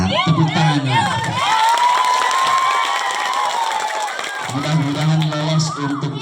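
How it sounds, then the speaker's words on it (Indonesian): An audience at a Maulid Nabi commemoration event claps and cheers, with children shouting amid the loud, sustained crowd noise; a voice speaks over it at the start and end. "Gila, tepuk tangan ya."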